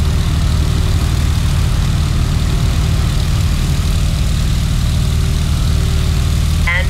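A small propeller airplane in the Microsoft Flight video game builds speed for takeoff, its engine a loud, steady droning roar that holds without a break.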